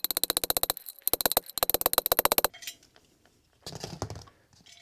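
Rapid metallic tapping as an extended socket drives a new differential breather into a Nissan 240SX limited-slip diff housing, loud close bursts of quick blows separated by short pauses, followed by softer handling clatter.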